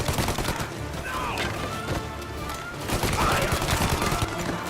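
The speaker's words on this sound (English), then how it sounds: "Good old Tommy gun with the drum," Tommy gun with a drum magazine firing in the video game Mafia, dense rattling bursts of automatic fire running continuously over a busy game soundscape, with no talking.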